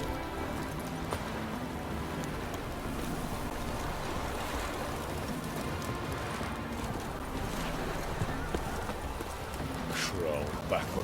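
Hooves of the horse Roach pound in a steady galloping rhythm across the open world of The Witcher 3, continuous and fairly close, with wind and ambient game noise mixed under a voice.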